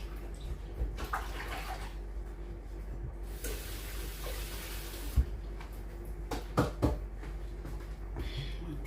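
Running tap water splashing over hands being washed in a kitchen sink, intermittent gushes and drips with a few soft clunks, fairly quiet and close.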